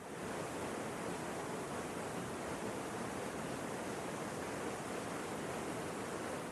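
Artificial waterfall over a 14-metre dam on the Khrevitsa river in the Leningrad region in hard frost, a steady dense roar of falling water filling the whole span without letup, loud and close.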